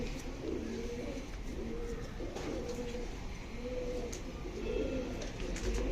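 Karnapura pigeons coo repeatedly near a house in Tiruvannamalai, soft rolling calls that repeat in a steady rhythm, fairly quiet and close.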